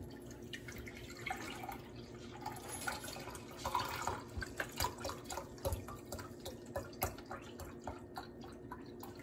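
Beef bone broth poured into a measuring cup, a quiet series of close liquid splashes and drips with a faint gurgle as it fills.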